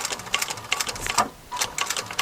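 A sewing machine stitches along the piping joint of a bolster cushion facing, running in quick bursts of rapid mechanical clatter with a brief pause midway, close and fairly loud.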